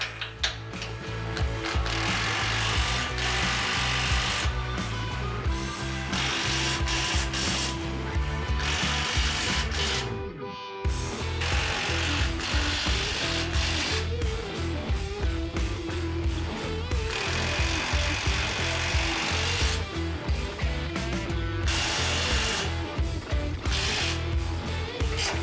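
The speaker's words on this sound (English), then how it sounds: "we'll come back and tighten down these 14mm nuts here" Power tool tightening 14mm nuts while a Toyota Tundra front bumper is installed, a loud, steady, close rattling and clattering that runs almost without a break, with one brief pause in the middle.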